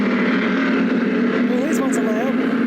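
A motorboat on Lake Macquarie runs as a steady, broad engine drone with its wake and water noise, holding level throughout while faint wavering tones and brief high chirps rise above it.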